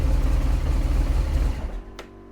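Rebuilt BMW 1200 GS motorcycle engine runs with a steady low rumble up close, then fades out and stops partway through, followed by a short faint click.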